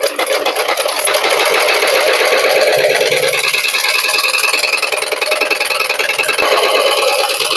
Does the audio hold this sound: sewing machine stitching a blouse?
yes